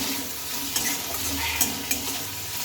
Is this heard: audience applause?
no